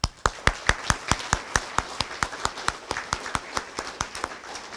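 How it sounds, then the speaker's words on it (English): Sharp, evenly spaced claps in a steady quick rhythm, like clapping in unison, ring out close and clear at a youth human rights awards ceremony, with no voices over them. "Let's have one more round of applause for these outstanding young people."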